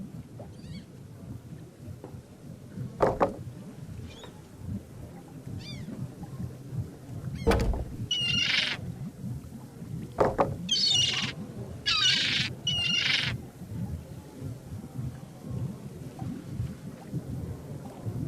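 Several short, harsh squawks from a bird in The Secret of Monkey Island come in bursts over a low rumbling, stormy backdrop with rain and thunder, moderately loud against the ambience.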